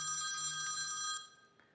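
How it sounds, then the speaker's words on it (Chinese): A telephone rings indoors at home, a bright electronic ringtone chirping steadily for about a second before cutting off, with no voices over it. "等一会儿我接个电话啊"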